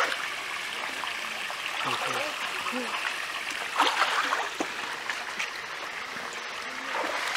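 Water flows steadily in a stream with a continuous, moderately close rushing and trickling wash, punctuated by a few small splashes. Faint voices are audible in the background.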